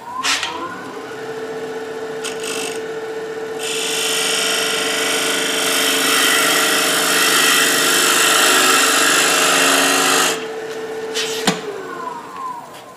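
A detail spindle gouge hollows out wall material inside an enclosed wooden form on a lathe, a loud continuous scraping whir that builds and holds for several seconds between short gaps and light taps.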